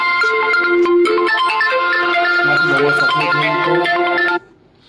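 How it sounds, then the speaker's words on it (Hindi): A mobile phone ringtone plays a loud melodic tune for about four seconds during a live stream, then cuts off abruptly into near silence. "बीच में फोन आ गया था"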